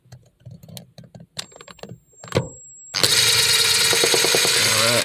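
Torx bolts being undone on a Toyota Corolla sun visor: a string of sharp clicks and taps from the tool, then a sudden steady loud whirring buzz with rattling, close up.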